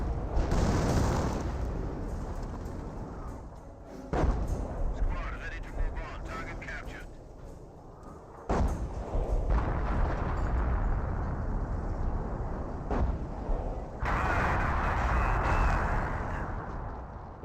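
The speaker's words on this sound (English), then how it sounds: "More creeping barrage in this region, sounds like." Artillery from a creeping barrage in Company of Heroes, heavy booms and rumbling explosions rolling in one after another, with a commentator talking over the whole stretch.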